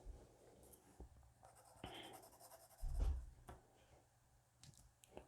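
A 2B pencil shading on paper while drawing an ear, faint soft scratching strokes near the microphone with a brief louder bump partway through.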